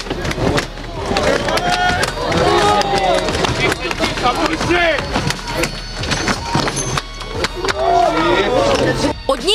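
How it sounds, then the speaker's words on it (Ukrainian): Loud, agitated crowd at a gas company protest pushing and breaking down a door, with shouting voices, scuffling, thumps and banging overlapping continuously throughout; people speak and yell in the clip. "Натовп виламує двері, але зайти вдається не усім."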